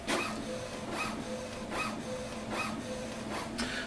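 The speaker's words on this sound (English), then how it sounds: "piece of paper starting to come out" An HP Officejet Pro 6830 inkjet printer feeds paper during setup, making a steady run of rhythmic whirring and clicking strokes about every 0.8 seconds, fairly quiet and close with no talk.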